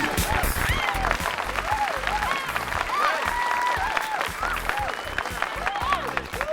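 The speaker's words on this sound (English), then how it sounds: "Extended applause." Lively applause follows a dramatic reading on a penny dreadful podcast, a continuous rattle of clapping with voices talking and exclaiming over it the whole way through.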